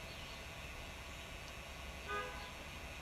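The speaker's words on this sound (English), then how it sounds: "Yeah, they honked the horn." A car horn honks once, briefly and faintly, from some distance outside a house, over a steady background hiss.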